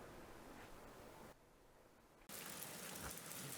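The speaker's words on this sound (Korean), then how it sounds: "한여름 무더위를 벗겨내는 시원한 비가 쏟아지는 어느 날" Heavy summer rain pours with a steady, dense hiss that drops quieter for about a second, then returns louder and fuller.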